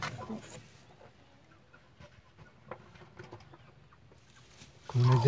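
A hen shut in a coop with her newly hatched chicks clucks quietly now and then amid faint peeps and rustling, ending in a sudden louder burst of noise.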